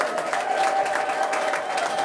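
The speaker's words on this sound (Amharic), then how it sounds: "አጨብጭቡ እስቲ ለጌታ" A church congregation clapping for the Lord during a prophetic worship service, dense continuous applause with a sustained tonal hum running underneath.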